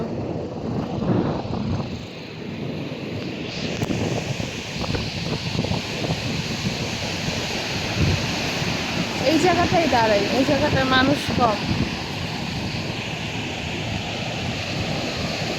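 Ocean waves at Cox's Bazar beach in the morning roll in as a steady broadband wash with wind noise on the microphone, while a person talks over it nearby.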